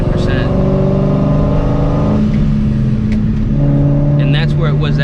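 A supercharged 2V Mustang GT engine pulls in gear with 3.55 gears, a loud steady harmonic drone that climbs and shifts in pitch, with a voice speaking briefly over it.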